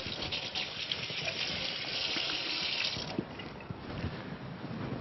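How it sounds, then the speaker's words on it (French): Hands being washed under a running kitchen tap during salad preparation, a steady close gush of water splashing into the sink for the full five seconds, with no talking. "du temps que je me lave les mains"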